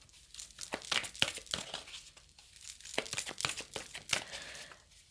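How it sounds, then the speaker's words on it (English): Tarot cards are shuffled by hand in several quick riffling bursts with short pauses between them, crisp papery snaps close and fairly quiet. "I'm getting the words as I'm shuffling"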